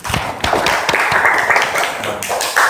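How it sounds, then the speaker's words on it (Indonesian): Students in a school classroom clap for a guest, a fairly loud, dense burst of applause that starts abruptly and carries on steadily, heard close, with no talk. "Ya, kita kasih aplaus sekali lagi untuk Mas Bayu"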